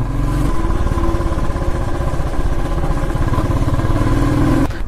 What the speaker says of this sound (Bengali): আমরা বন্ধু এখন সেই নিজের বাইক নিয়ে নিজের দেশ থেকে নেপালের রাস্তায় এসে রাইড করছি